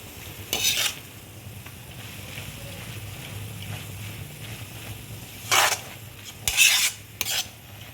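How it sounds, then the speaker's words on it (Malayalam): Drumstick leaves and egg for a thoran are stirred in a pan, giving a few scraping bursts of spatula against metal over a quiet, steady sizzle, with louder strokes near the end. "ഇതെല്ലാം കൂടെ ഒന്ന് നമുക്ക് യോജിപ്പിച്ചെടുക്കാം."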